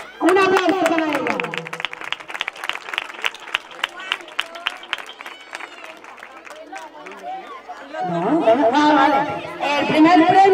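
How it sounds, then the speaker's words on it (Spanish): Audience applause and cheering for the neighbourhood association president at a children's carnival prize-giving, starting with loud crowd noise, settling into steady clapping, then swelling again with voices near the end. "Un aplauso para ella."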